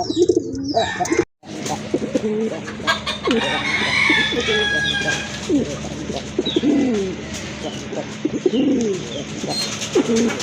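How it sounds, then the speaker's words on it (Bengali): Pigeons, including pink-beaked ones, coo steadily in low, rolling calls, with several birds overlapping over a constant background of chatter and rustling. "প্রচুর ডাকে, খুবই অ্যাক্টিভ, গোলাপি ঠোঁটের কবুতর"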